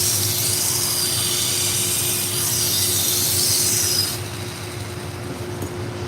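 A kitchen knife is sharpened dry on a powered grinder to remove the burr, giving a steady loud rasping hiss with a constant motor hum underneath; the grinding stops about two-thirds through, leaving the hum running on its own.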